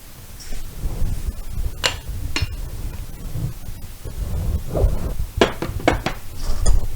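Salted bigos, a Polish hunter's stew, being stirred in a pot, with a spoon scraping and clinking against the metal in irregular bursts over steady low kitchen rumble, close and moderately loud.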